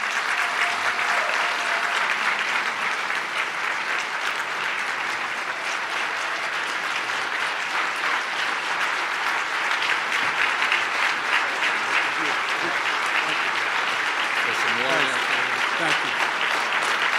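Audience applause welcoming New York Governor Andrew Cuomo at a 2015 public address, sustained and loud throughout, a dense crowd of clapping hands with some cheering mixed in.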